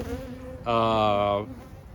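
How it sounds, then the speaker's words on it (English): Honey bee swarm buzzing around hives, a steady low hum with one bee swelling loud and close for under a second before fading back into the background drone. "our newfound swarm is enjoying the sugar water"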